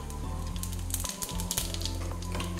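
Whole spices (cinnamon, cloves, cardamom, a dried chilli and bay leaf) sizzle and crackle in hot oil, a close, steady frying hiss with brief pops.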